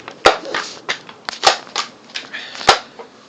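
A BB gun fires in sharp, sparse snaps, several distinct cracks spaced unevenly across a few seconds, with faint rustling between them.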